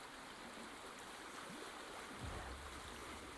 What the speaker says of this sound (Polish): Kwaśna woda go obmywa.